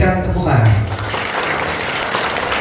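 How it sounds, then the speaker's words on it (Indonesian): Congregation applause at a Christmas church service rises as a dense clatter of clapping right after a voice speaks briefly at the start, then continues evenly to the end. "Berikan tepukan."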